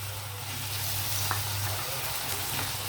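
Tomatoes added to dried red chillies frying in oil in a pan for a drumstick onion curry, giving a soft, steady, close sizzle with faint crackles throughout.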